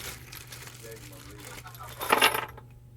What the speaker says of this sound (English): Let me pop that Ziploc open.